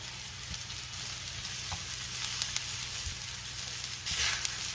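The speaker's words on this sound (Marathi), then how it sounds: "आता ह्यामध्ये बारीक चिरलेली मेथी घालायची आहे" Chopped fenugreek leaves frying with crushed peanuts in a pan for a spicy thecha, a steady close hiss and crackle with occasional stirring taps.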